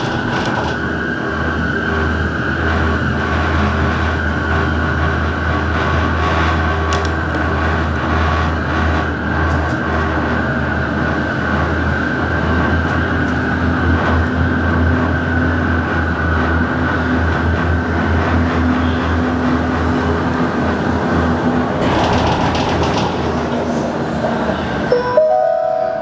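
A steady, loud mechanical rumble with rolling hum and faint squeals rides on continuously inside a Disney Skyliner gondola cabin travelling from Hollywood Studios toward EPCOT, with a brief shift in tone near the end.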